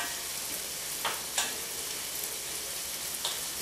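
Vegetable dish sizzling in a pan on the heat, a steady hiss of frying throughout, broken by a few faint clicks and stirring touches.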